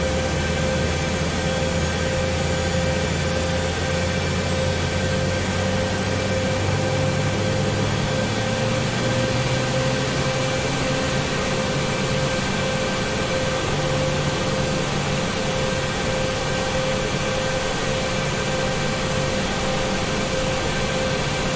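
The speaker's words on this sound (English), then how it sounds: "Start on the first engine there." An AH-64D Apache helicopter engine in the DCS World video game spools up with a rising whine and a constant high-pitched tone over a steady turbine roar, continuous and evenly loud throughout.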